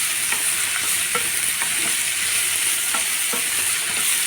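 Rice and masala frying together in a pan for palak dal, a loud continuous sizzle with repeated stirring scrapes spread evenly throughout, no voices.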